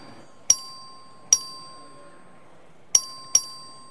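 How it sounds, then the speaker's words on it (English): A clerk rings the voting bell in the Texas House of Representatives chamber, giving four sharp, ringing dings at uneven intervals, the last two close together, each decaying quickly over a quiet room. "The clerk will ring the bell."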